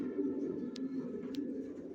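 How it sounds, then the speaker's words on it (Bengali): Racing pigeons coo in a home loft, a low steady murmur of overlapping calls throughout, with a couple of brief sharper sounds near the start and middle. "কোয়ালিটি সম্পন্ন কবুতর পালি"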